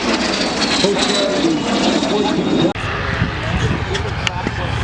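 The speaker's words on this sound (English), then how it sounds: "That's the sound of the P-51 blowing." A P-51 Mustang propeller engine roars loudly and steadily throughout at an airshow in Oshkosh, with a brief dip partway through, while a voice talks over the drone.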